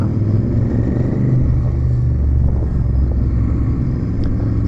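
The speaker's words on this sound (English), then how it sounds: "A lot of that sound you're hearing isn't my bike, it's John's bike in front. That Victory sounds absolutely beautiful." A Victory motorcycle rides just ahead on a winding highway, its engine a deep, steady rumbling drone with wind roar, constant and loud throughout, no voices.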